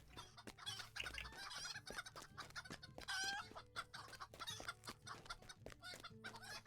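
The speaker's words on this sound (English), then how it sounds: "there's a farm there on the road in that's got lots of chickens and coops there" Chickens cluck steadily at a poultry farm with coops beside a road in the video game The Lord of the Rings Online, with a rooster's crow rising briefly above the busy, continuous clucking of many birds.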